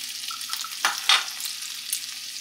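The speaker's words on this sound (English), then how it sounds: "And we're just going to saute this until the onions are soft" Onion, celery and apples sauté in a pan over medium-high heat, a moderate sizzle interrupted by two or three scraping stirs of a spoon, the stirs heard up close.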